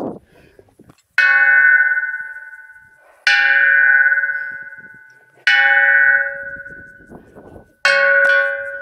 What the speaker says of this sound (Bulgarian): Камбаната бие.